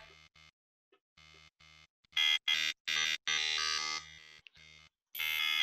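An Xfer Serum synth plays a 14-frame wavetable patch as choppy, rhythmic bursts of buzzy harmonic tone, sparse at first, then louder, denser and brighter stabs sweeping through the wavetable frames.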